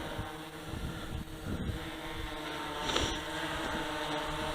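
A DJI Inspire 1 drone with a modified battery runs steadily nearby, its motors giving a continuous whining drone under wind buffeting against the microphone, with no talking.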